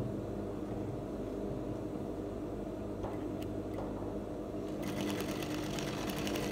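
A sewing machine stitches down a pocket on a palazzo jumpsuit, its steady rapid mechanical whir running close and continuous, with a brighter burst of stitching toward the end.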